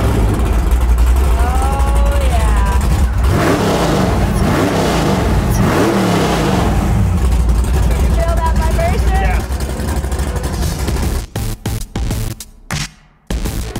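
A car engine at the SEMA Show 2014 fires up and revs in several loud rising bursts, with people talking nearby and sharp knocks near the end.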